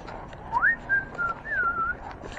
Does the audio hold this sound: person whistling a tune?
yes